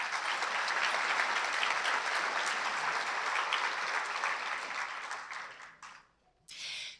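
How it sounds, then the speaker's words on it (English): Audience at a hometown heroes awards event applauding an honoree, a full, dense wash of clapping that holds steady and then tapers off, with a short burst returning at the very end. "one more round of applause for her"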